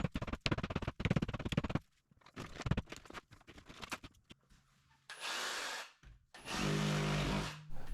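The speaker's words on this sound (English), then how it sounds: "That's a safety cut blade on a reciprocating saw." A reciprocating saw fitted with a safety cut blade cuts into a shower wall during a bathroom remodel. Rough, broadband bursts of sawing come close and loud, separated by quieter gaps with knocks and rattles.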